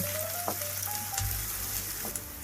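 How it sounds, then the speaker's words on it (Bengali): Chopped onion, green chili and garlic frying in oil in a wok, giving a steady close sizzle with a few faint stirring scrapes and a low hum beneath. "এরপর দিয়ে দেবো পেঁয়াজ কুচি, কাঁচামরিচ আর রসুন কুচি। এগুলো আমি হালকা ব্রাউন কালার করে ভেজে নেব।"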